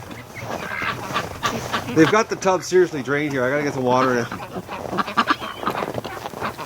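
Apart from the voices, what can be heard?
ducks quacking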